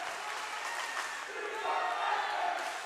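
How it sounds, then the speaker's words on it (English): Loud, raucous crowd noise fills a gym during a varsity high school volleyball match between Foxboro and Attleboro, a steady roar of cheering and shouting that swells toward the end. "Raucous crowd in the building."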